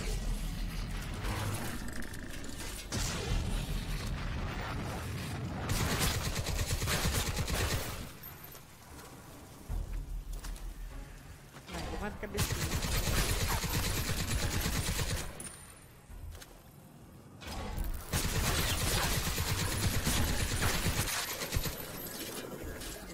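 Rapid bursts of automatic gunfire in the video game Crysis 3 rattle continuously, broken by brief lulls, dense and loud with mechanical clatter.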